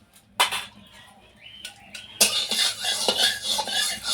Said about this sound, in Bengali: প্রথমেই উনুন জ্বালিয়ে কড়াই বসিয়ে দিচ্ছি। আর কড়াইতে আমি দিয়ে দিচ্ছি 1/2 চামচ ঘি।